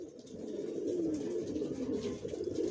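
Young racer pigeons of the Johnson line coo softly in a low, steady rolling murmur, several birds close together with no talk over them.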